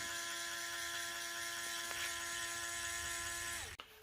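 A Kenner/Disney toy Sandcrawler's elevator motor hums with a steady high-pitched electric whir as it carries an R2 figure up, running continuously before cutting off abruptly near the end with a small clunk.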